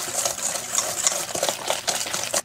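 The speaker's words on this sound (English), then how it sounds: "I'm putting one large egg, half that at room temperature. It's going to keep whisking over." An egg is whisked into brownie batter in a bowl, a steady busy scraping-and-swishing with quick rhythmic strokes, close and fairly loud, with no voices.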